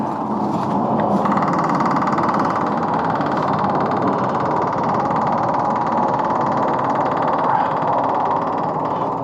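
A Frick sawmill's engine runs steadily in nine-degree cold after starting, a loud continuous mid-pitched rumble with no pauses, close by and without talk.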